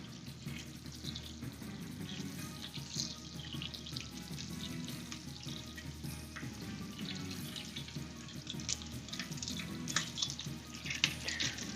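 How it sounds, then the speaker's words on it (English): Chicken frying in a pan for chicken and dumplings, rendering fat and throwing off moisture, gives a steady, busy crackling sizzle that stays close and dense throughout, with no talking over it. "when it's frying like this, it's expelling that excess moisture"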